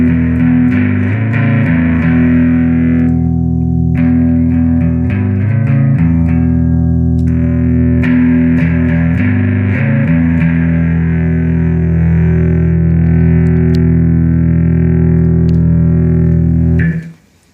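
An electric guitar with overdrive runs through a Strymon Timeline pedal with the mix turned up, giving thick, distorted sustained chords and riffs with a heavy low end, played loud and alone before cutting off abruptly.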